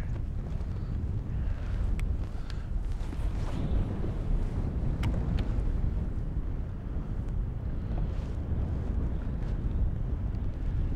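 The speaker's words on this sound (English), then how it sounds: "Plenty windy." Strong wind buffeting the microphone on a rock out on a lake, a low continuous roar with gusting rumble, outdoors and close, with occasional faint knocks.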